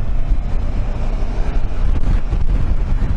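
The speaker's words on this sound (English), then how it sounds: "Ooh, a lot of wind coming in from the left" Heavy, low roaring wind buffets the microphone continuously while riding a Honda CB500X motorcycle fitted with a windshield extender, loud and turbulent with no talk.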